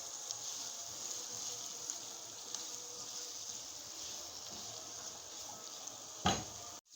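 Onions with black pepper and salt fry over a low flame, a faint, steady sizzle with light stirring scrapes and one sharper clatter of a utensil near the end.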